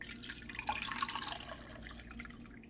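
Fresh water pouring into a pot to cover eggs for boiling, a close, steady splashing trickle that fades slightly toward the end.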